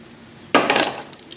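A homemade metal bar holding a center drill is handled in a machine shop, giving a sudden clattering clink and scrape of metal, close and fairly loud, followed by a few lighter knocks.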